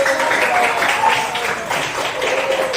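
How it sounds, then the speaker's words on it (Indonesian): Audience applause in a classroom session, a steady patter of many hands clapping at moderate volume, with a voice speaking over it. "Kasih tepuk tangannya, ya."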